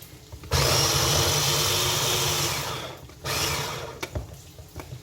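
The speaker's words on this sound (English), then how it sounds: "this blender is very good" A loud, steady electric blender whir runs for about two and a half seconds while blending spring onion, cuts out, then starts again briefly with a few sputtering bursts.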